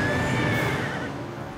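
A horse neighs in the Dark Parables hidden-object game, a single loud whinny with a wavering high tone that fades over about a second, with no talk.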